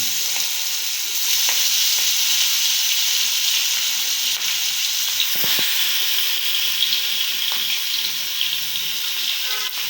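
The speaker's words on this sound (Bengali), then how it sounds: "হলুদগুলো মাখিয়ে নিয়ে মাছ কড়াইতে ছেড়ে দিলাম" Pangas fish coated in turmeric sizzles and hisses loudly in hot oil in a wok, a continuous bright frying crackle with small pops, no voices.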